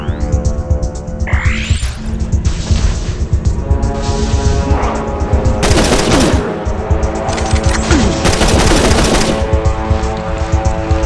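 Automated AI gun turrets fire inside the NOVA video game, rapid continuous bursts of machine-gun fire over a throbbing mechanical hum, loud and close, with a few sharper blasts mixed in.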